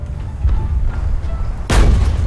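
Gunfire in a tank video game set around trees, heard as a sharp loud boom near the end after a stretch of low rumbling, with faint muffled pops earlier.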